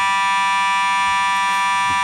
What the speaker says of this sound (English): we're experiencing an alarm here and a fire alarm here at our GPP studios